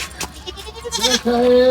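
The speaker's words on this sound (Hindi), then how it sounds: "मैं बकरा लेके जा रहा हूँ" A goat bleats at a livestock market, its harmonic cry rising and holding loud in the second half, with rustling market noise and brief voices earlier.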